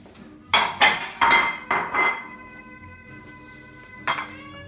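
Plates, dishes and cutlery clink and clatter while pasta with pancetta, onions and peas is served: five or six close, sharp knocks in the first two seconds, then a quiet pause and one last clink.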